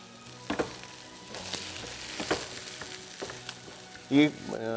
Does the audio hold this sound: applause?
no